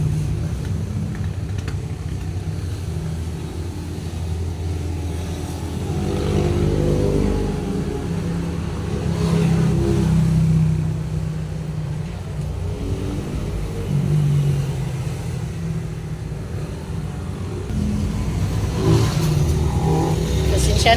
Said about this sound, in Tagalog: Pasensya na po ninyo ang ingay ng sasakyan guys.